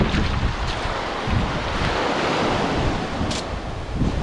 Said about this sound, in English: See, the waves will, see how they pull the shells in?